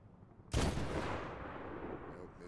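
A single sniper rifle shot from Medal of Honor 2010 cracks loud and close, followed by a long, slowly fading rolling echo.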